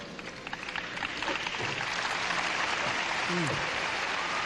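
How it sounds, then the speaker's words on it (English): Steady applause from a gymnastics arena crowd at the 1998 Goodwill Games, building after the first second into a continuous wash of clapping, with voices talking over it. "Appreciative applause, though."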